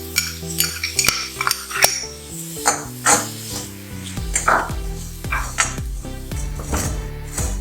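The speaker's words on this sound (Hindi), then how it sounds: "लोहे की कढ़ाई मैंने रखी है गैस पे, इसे गर्म किया है और एक एक करके सारे इंग्रेडिएंट्स में सेक लूंगी" Fennel seeds dry-roasting in a heated iron wok over a gas flame, with repeated metallic clinks and scrapes of a spatula and rattling seeds, close and fairly loud over background music.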